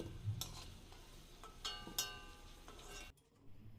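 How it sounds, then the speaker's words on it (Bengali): Fried potatoes are lifted from hot oil with a soft, continuous sizzle, punctuated by a few light scraping clinks, close by, before the sound cuts off. "এবার এগুলোকে তেল থেকে তুলে নিতে হবে।"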